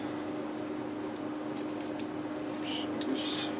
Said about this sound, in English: So I guess scissors work better than pliers.